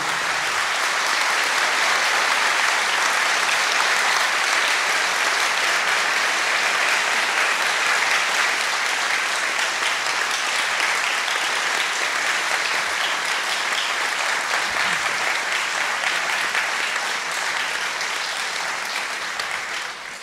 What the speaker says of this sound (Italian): io vorrei un applauso per lui